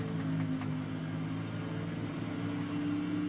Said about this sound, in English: Well, I can hear the engine sizzling.